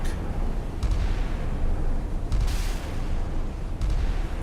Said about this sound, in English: There goes the guns aiming for flak.